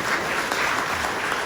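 An audience at a leadership talk breaks into steady, dense applause, many hands clapping together close by without pause.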